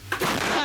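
A single heavy self-propelled howitzer blast booms out on a front line, followed by a rolling, echoing rumble that fades slowly into the distance.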